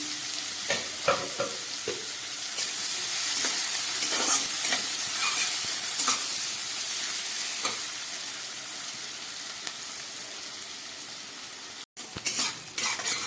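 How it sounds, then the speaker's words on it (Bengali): Onions fry in oil left over from frying prawns, a continuous close sizzle broken by repeated scraping strokes of a spoon stirring the pan, with no talking. "এবার এর মধ্যে আমি পেঁয়াজটাকে ভালো করে ভেজে নেব।"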